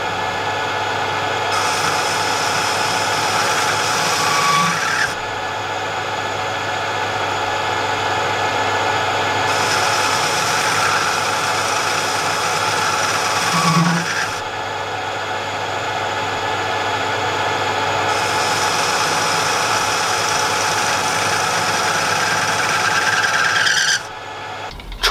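A metal lathe bores a hole with a boring bar, running as a steady, close mechanical hum with cutting passes that rise and fall in three long sections, ending abruptly.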